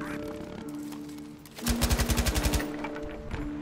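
An MG-34 machine gun fires in Battlefield V, a single loud rapid burst of about a dozen evenly spaced shots lasting roughly a second over game background sound.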